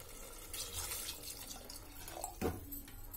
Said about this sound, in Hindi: अब मैं इसमें एक गिलास पानी डाल दूंगी।